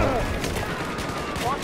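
Gunfire in the shooter game Battlefield 4, a continuous dense crackle of shots running under excited voices talking over each other.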